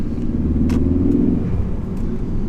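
A 2017 Ford Focus ST-3 engine rumbles nearby, rising briefly in pitch as it revs, then easing back to a low, steady drone.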